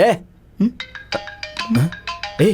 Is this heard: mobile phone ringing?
yes